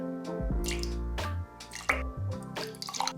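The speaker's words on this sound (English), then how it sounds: "First, I just quickly rinse the milk frother." Water runs and drips as a milk frother gets a quick rinse, with short irregular splashes and squishy liquid sounds, close and fairly quiet.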